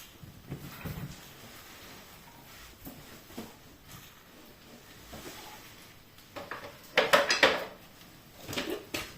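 Dishes and cutlery clink and clatter close by in bursts, louder toward the end, with no talking.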